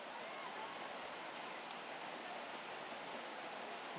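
Steady rain falls over an outdoor girls' high school soccer match, a dense, even hiss that holds constant without pause or change in level.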